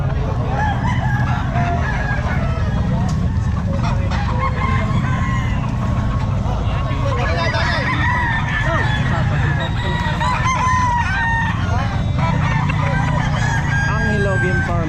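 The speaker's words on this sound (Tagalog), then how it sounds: "Ito yung mga manok ni Angelo Game Farm mga sir" Game-fowl roosters crow repeatedly at a busy pet market in Bocaue, overlapping one another amid steady crowd noise and voices talking nearby.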